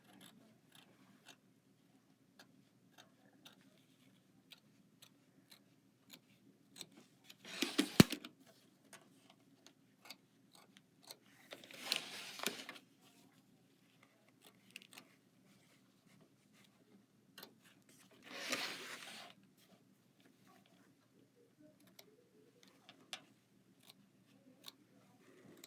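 Scissors trimming an embroidered radish appliqué fabric at a sewing table: three short bursts of snipping a few seconds apart, quiet and close, among faint scattered clicks and handling sounds.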